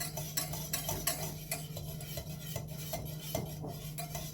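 A spoon stirs chocolate sauce in a bowl, with quick metallic clinks and scrapes repeating close and steady against a low background hum.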